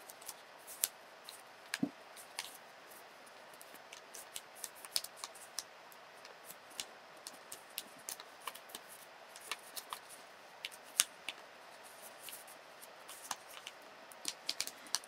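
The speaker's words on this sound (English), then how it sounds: "make a crease, and fold it over. Turn your snitch over and do it again." Paper crisply creased and folded while shaping an origami Golden Snitch, heard as quiet scattered snaps and rustles close by, with no talk.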